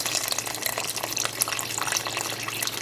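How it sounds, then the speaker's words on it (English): Water pours steadily from a tap into a pot of tomato soup mixture, a close, continuous splashing hiss with small bubbling spatters and no talk. "we're going to put some water with that"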